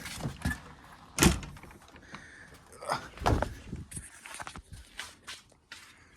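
A nearby full-size truck camper door is pulled open and pushed shut, with a few sharp knocks, thuds and shuffling movement in between.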